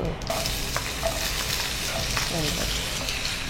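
Small diced potato pieces sizzle in hot oil in a pan after tempering spices have spluttered, a dense continuous frying crackle with a few stirring clinks, close and steady.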